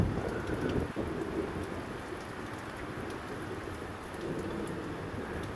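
Steady rainstorm hiss fills the scene while a low thunder rumble rolls underneath, swelling near the start and again toward the end, with no talking.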